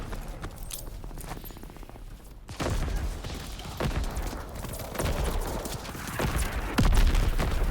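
Artillery and gunfire in the World War II video game Call of Duty: WWII, with scattered sharp gunshots and thuds over a rumbling battlefield that grows louder toward the end.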